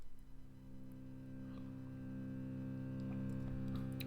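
A sustained cello drone on C holds steady for the whole stretch, a continuous low bowed note with rich harmonics, moderately quiet and without a break.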